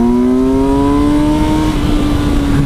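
A Kawasaki Versys 1000 SE GT motorcycle engine screams at full throttle, its pitch climbing steadily as it accelerates hard, close and continuous with no voices.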